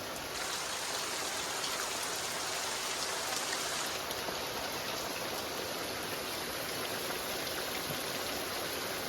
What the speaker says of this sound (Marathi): जोरदार पाऊस आहे